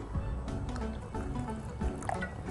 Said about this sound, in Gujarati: જરૂર મુજબ પાણી એડ કરતા રહીશું.